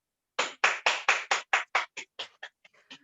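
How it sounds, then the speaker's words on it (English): A small classroom group claps in unison for a child, about a dozen sharp, close, rhythmic claps that start strong and quickly fade into scattered stragglers. "Let's give a hand clap for Zoe."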